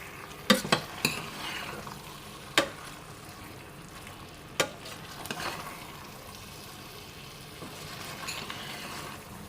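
Chicken macaroni is stirred in a pan on the stove, a faint low sizzle under a few sharp clinks and scrapes of the spoon against the metal.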